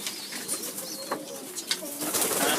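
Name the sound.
pigeons cooing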